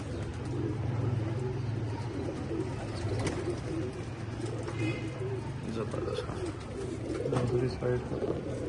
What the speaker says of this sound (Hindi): वैसे है ये लाखे कबूतर है।